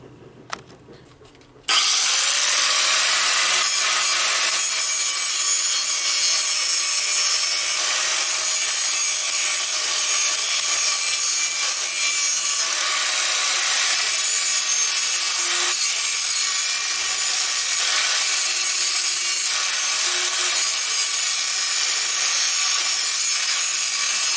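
A Dremel rotary tool with a small quarter-inch grinding wheel cleans up fresh MIG welds on a steel utility cart bracket, starting abruptly after a short quiet moment, then a loud, close, continuous high-pitched whine and grind.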